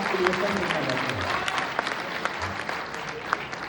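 An audience applauds at a Lucknow cultural gathering, a dense, continuous patter of many hands clapping with voices mixed in throughout.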